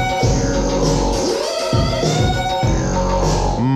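Music plays loud and bass-heavy through a large JBL garage speaker system with the mid-range high-pass filter switched off, its low end boomy and muddy in a steady, full-band sound with no talking.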